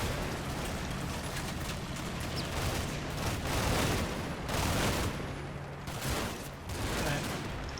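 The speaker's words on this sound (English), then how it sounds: "Always good to see the enemy machine gunner get shot." Machine gun fire in the Combat Mission: Red Thunder war game, dense bursts and rattling volleys overlapping into a continuous fusillade with swelling peaks, moderately loud, with no talking.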